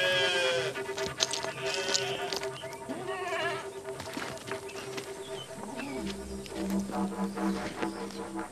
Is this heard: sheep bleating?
yes